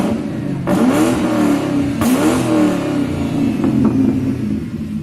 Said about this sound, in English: Let's get more of the exhaust note out of that.